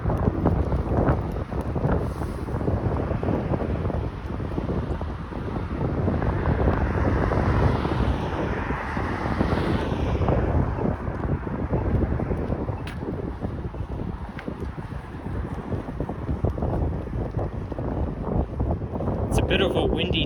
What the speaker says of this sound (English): a bit of a windy day today.